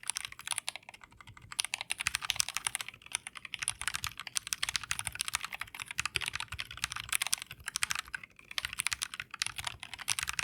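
Brisk, continuous typing on a Dygma Defy keyboard, a dense stream of crisp close key clicks with small pauses, no voices over it.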